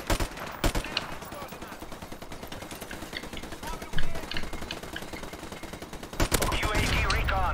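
An MP44 assault rifle in Call of Duty MWR fires in short, sharp bursts, loud and near, with a denser volley near the end over steady game background noise.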